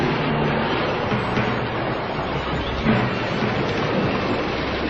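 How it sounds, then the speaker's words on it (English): A storm soundscape of steady heavy rain with rolling thunder, a dense continuous wash with a deeper rumble swelling near the middle, heard alone without speech. "He sends a perfect storm that strikes down Odysseus' ship."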